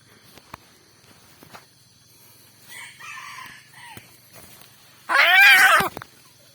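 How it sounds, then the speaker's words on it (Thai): A red junglefowl rooster crows once, loud and close, a strained, off-pitch, chick-like call rising above quiet surroundings after a few faint clucks and rustles. "ขันเหมือนลูกไก่"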